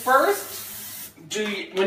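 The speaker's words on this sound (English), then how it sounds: "So I'm going to spray a little bit." An aerosol can of cooking spray hissing into a crepe pan in a kitchen, two short bursts of steady hiss with a pause between them, close, with a voice speaking around them.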